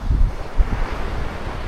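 Sea waves wash over rocks on the Kannur coast, a continuous close roar of surf with heavy wind buffeting the microphone and no talking.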